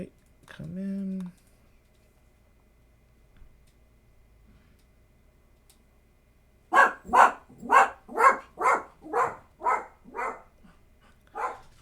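A dog barks in a rapid burst of about nine loud, close barks spaced evenly, after a short vocal sound at the start and a stretch of near silence.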